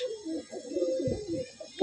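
An old-bloodline Madrasi Kalanka male pigeon coos in a low, rolling, continuous phrase close by, kept in a small loft.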